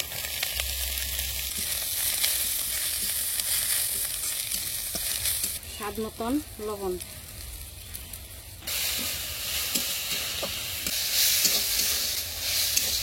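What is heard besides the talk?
chopped jute leaves frying in pan with fried onions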